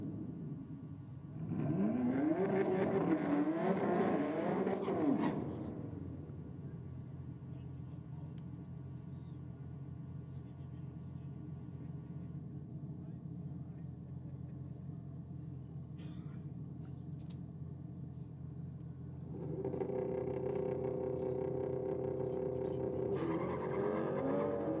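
Drag cars launch down the strip at Sydney Dragway on a competition night, including a BMW running squirrelly off the line, each with a loud roaring acceleration burst that fades into the distance while commentators talk over the low crowd rumble.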